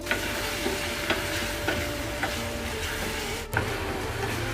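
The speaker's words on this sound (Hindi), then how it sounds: "और उसके बाद हमने मैरिनेशन की हमारी चिकन वो डाल देनी है और उसको भी हमने पकाना है" Marinated chicken frying in a pan with whole garlic cloves for a restaurant-style chicken shashlik. A steady close sizzle runs throughout, with soft periodic stirring knocks and one sharp clatter near the end. No one talks.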